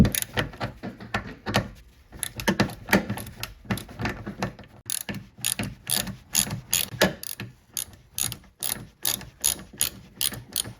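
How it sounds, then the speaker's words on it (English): A hand ratchet with a 10mm socket loosens the mirror bolts on a 2012-2017 Toyota Camry door, its rapid clicking pawl coming in close, repeated bursts with short pauses between strokes. "I believe it's 10mm socket to remove the mirror"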